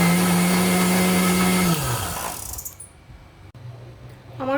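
An electric mixer grinder whirs loudly while blending a pistachio kulfi mixture, then winds down and stops after about two seconds, leaving quiet handling noises and a brief whine at the end.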